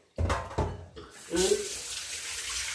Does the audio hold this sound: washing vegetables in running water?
yes